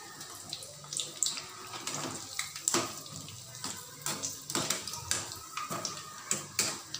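Small balls of moong dal bhaji batter fry in hot oil, a steady bubbling sizzle with frequent crackling pops, close and fairly quiet, with no talking.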